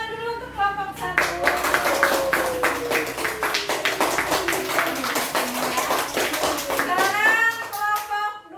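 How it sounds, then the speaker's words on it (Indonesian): A room of people clapping together, a sustained burst of applause with voices calling out over it before it fades. "Oke, beri tepuk tangan dulu untuk kelompok 1."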